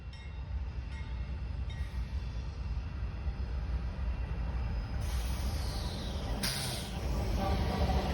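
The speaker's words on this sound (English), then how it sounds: "the first train to clear would be Norfolk Southern 20W, eastbound stacks from Chicago to Croxton, New Jersey" A Norfolk Southern eastbound double-stack freight train rumbles past, a steady low roar of rolling cars with a brief hiss near the end.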